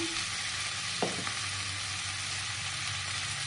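Potatoes with turmeric fry in a pan, giving a steady, even sizzle throughout, with one soft knock from a utensil partway through.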